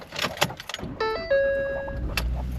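A truck in Edmonton, Alberta cranks and its engine fires up; dashboard chimes ring out as the key turns, followed by the starter whir and a low engine rumble settling into idle.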